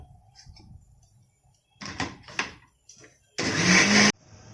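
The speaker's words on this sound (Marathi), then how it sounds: "मिक्सरमधून फिरून घेतलेलं आहे" A mixer grinder whirs in one loud burst of under a second for idli batter, after scattered clatter and bumps from handling the jar, with a faint voice at times.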